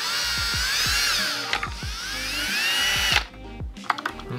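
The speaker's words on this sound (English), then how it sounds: "I'm just using a smaller one as a pilot." A power drill bores a pilot hole while hardwiring a Subaru fuel pump, its high motor whine loud and close, rising and falling under load, then stopping abruptly as a few clicks and rattles follow.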